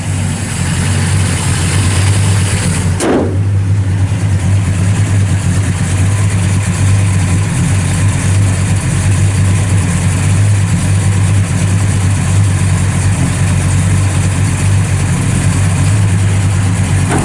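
A 1971 Pontiac LeMans GT37 with a 455 V8 idling: a loud, close, steady low rumble with a firm even lope, plus one brief sharp transient early on, and no talking.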